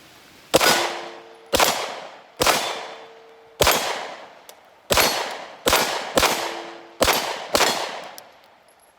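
Eight sharp, loud single shots from a CZ Scorpion pistol-caliber carbine fed by a Magpul EV9 magazine, fired at a steady, deliberate pace outdoors, each report ringing and decaying before the next.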